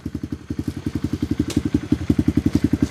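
A Tao Tao Coleman 125 ATV engine running warm, a close, steady rapid putter of even exhaust pulses with a slight clattery edge, continuing alone without any talk.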